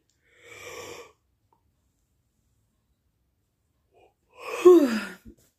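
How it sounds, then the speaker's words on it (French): A breathy inhalation, a pause, then a drawn-out yawn with a rising and falling voiced tone, close and fairly quiet. "J'ai envie de bâiller."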